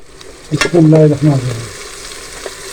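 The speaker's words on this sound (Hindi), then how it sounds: "अच्छा सा कलर आने तक इसको हम 2 मिनट भूनेंगे" One kilo of beef fries in a pan for bhuna beef masala, a low sizzle running underneath while a loud, brief tonal squeal rises and fades in the middle of the clip.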